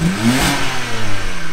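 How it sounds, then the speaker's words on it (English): A completely stock BMW E90 325i with a quiet exhaust is revved up and held, giving a smooth, rising engine note close by that settles back without voices. "This is the completely stock standard E90325. Fire it up. Yeah, you can turn it on. Oh, it is on. Bit quieter this one. Give it a rev."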